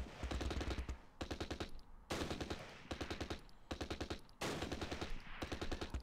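A Vickers machine gun fires in Close Combat Last Stand Arnhem, loud sustained bursts of rapid rhythmic shots broken by short pauses, repeating steadily and close by.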